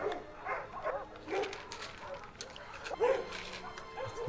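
Dogs in a movie soundtrack yip, bark and whimper in short bursts over a quiet background of film sound, moderately faint and at mid distance.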